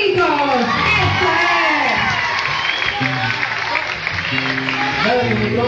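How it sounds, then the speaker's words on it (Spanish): At a gospel concert, a lively crowd cheers, whoops and claps for the group, with shouting voices loud and close over the clapping and an announcer speaking through the noise. "¡Fuertes aplausos, chicos!"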